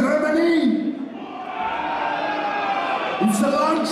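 A crowd at a heavy metal concert in Lichtenfels, Germany, cheers and whoops loudly and steadily, with a voice carrying over the roar.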